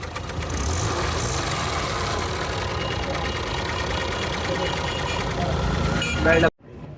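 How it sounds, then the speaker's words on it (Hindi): Overheating Suzuki Mehran car with its engine revved, a loud steady rough running drone that holds for about six seconds and then cuts off abruptly. "ये अभी मैं थोड़ी रेस देता हूँ।"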